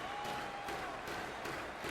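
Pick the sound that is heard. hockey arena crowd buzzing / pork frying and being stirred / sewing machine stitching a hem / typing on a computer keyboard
hockey arena crowd buzzing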